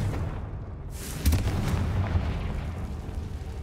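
A Confringo fire-spell explosion in the Hogwarts Legacy video game, a sudden booming burst with a short crackling tail, heard alone over steady game ambience.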